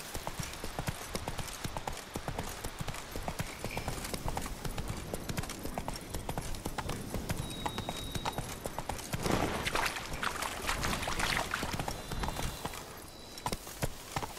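Horse hooves galloping in The Witcher 3, a rapid, continuous clip-clop of hoofbeats that runs steadily throughout at close range, with game ambience and brief tonal effects mixed underneath.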